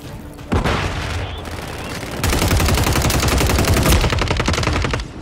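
Sustained automatic gunfire from a Call of Duty Modern Warfare III team deathmatch on the Dome map, loud dense bursts that start after a brief pause and grow heavier near the end.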